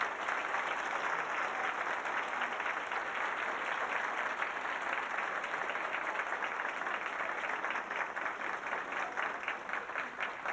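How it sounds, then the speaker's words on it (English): A school audience at a 1996 fifth-grade graduation applauds the graduating students, a steady dense wash of many hands clapping that continues evenly throughout, with no voices over it. "Give them a big round of applause."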